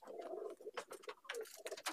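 Mastan-breed Andhra pigeons coo in low, rolling bursts close by, with soft clicks and rustles around the calls.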